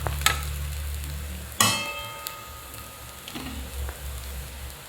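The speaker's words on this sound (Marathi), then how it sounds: "असं तेल लावून चांगलं खरपूस भाजून घ्यायचं." A multigrain dhapate flatbread roasting with oil on a hot pan sizzles quietly and steadily, broken by a sharp clatter and a few light scraping touches.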